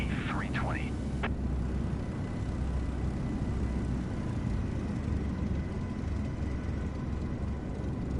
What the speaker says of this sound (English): Caution the departing Airbus A320.